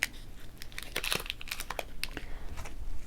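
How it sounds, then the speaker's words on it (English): A small piece of tape torn off a roll while making a bumble bee lollipop craft, giving quick crackly rips and crinkles in short close bursts. "I'll just take a little piece of tape"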